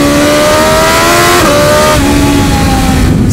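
A 2021 BMW S1000XR motorcycle engine revs hard while shifting down through the gears, a loud, steady roar with pitch steps at each downshift. No talk over it.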